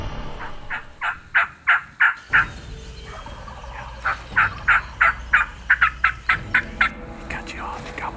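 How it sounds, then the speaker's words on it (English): A wild turkey gobbles in the woods in two rapid rattling series of sharp, warbling calls, clear and moderately distant, with faint movement noise between them. "he gobbled twice, Chad."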